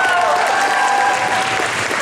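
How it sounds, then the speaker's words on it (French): Applause from a cosplay contest audience at a convention, a dense, steady wash of clapping filling the hall, with a voice speaking over it. "on l'applaudit s'il vous plaît"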